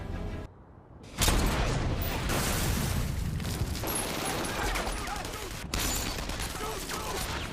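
Dense gunfire rattles through an action movie shootout with drug cartel gunmen, loud continuous bursts after a brief lull, with mechanical clatter and a voice mixed in.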